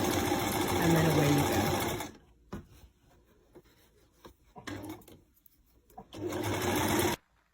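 A sewing machine stitches the seams of a crochet bag in two long steady runs, loud and close, separated by a quieter stretch of handling noises and soft fabric rustles, with a word spoken briefly.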